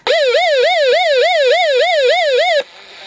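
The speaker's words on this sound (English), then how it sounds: "get to hear what that siren really sounds like" The built-in emergency siren of an Eton FR-250 hand-crank survival radio by Grundig, a loud, close electronic wail rising and falling rapidly about four times a second for over two seconds before cutting off abruptly.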